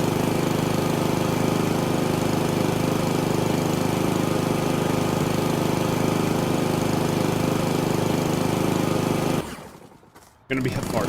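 A lawnmower engine drones loudly and steadily close by for most of the stretch, then cuts out abruptly near the end before a burst of sound returns.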